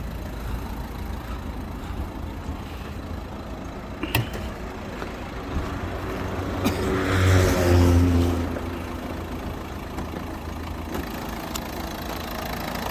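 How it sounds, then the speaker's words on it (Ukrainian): A used car's engine idles steadily nearby at a car market, a low continuous hum that briefly swells into a slightly louder rev before settling back down. "На даний час заведений двигун."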